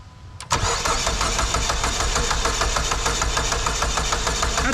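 A Dodge SRT-4 engine cranks over steadily during a compression check on cylinder 4, a loud rhythmic starter churn that kicks in after a brief quiet moment and runs on without the engine catching.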